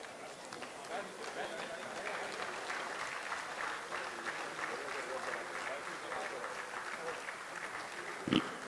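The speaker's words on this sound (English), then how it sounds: "Let's give a round of applause." Audience at an alumni association global convention applauding steadily and fairly loudly throughout, a dense wash of claps from a large crowd at a distance, with a brief louder knock near the end.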